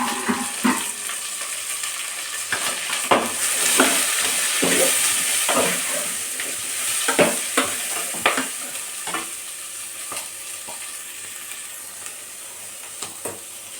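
Bitter gourd and small shallots fry in oil in a pan with a steady sizzle, while a spoon stirs and scrapes through them in repeated clatters across the whole stretch, with no talking.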